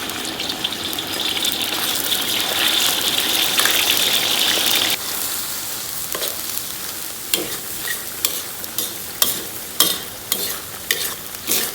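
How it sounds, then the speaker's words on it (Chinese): Minced pork drops into a pan of lightly heated oil, a loud gushing sizzle that then breaks into bursts of crackling and scraping as the meat is stirred. "然后咱们给锅里边稍微来点油，油温2成热，咱们把肉末给它下里边"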